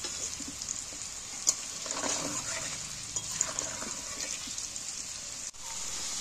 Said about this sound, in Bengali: এবার আমি আলুটাকে একটু ভালো করে ভেজে নিব।